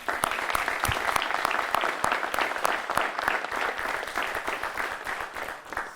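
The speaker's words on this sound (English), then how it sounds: "please let's join in and give one more round of applause to our students" A crowd claps steadily in dense, even applause that holds at a constant level from start to finish, honoring students at a Worcester-area valedictorian ceremony.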